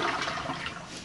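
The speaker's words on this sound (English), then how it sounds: "I'm going to flush the toilet and see what happens" A toilet flushes after Coca-Cola has been poured into the bowl, a continuous rushing of water that stays close and fairly steady before fading slightly, with no talk.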